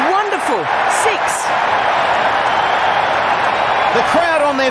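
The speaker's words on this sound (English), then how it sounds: "The crowd on their feet." At a Pakistan versus England T20 cricket match, a large stadium crowd roars and cheers steadily after a six, while a commentator and other voices speak over the continuous din.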